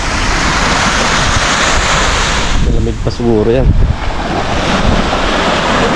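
Sea waves wash steadily onto an empty beach early in the day, with strong wind buffeting the microphone throughout and a person briefly speaking over the surf.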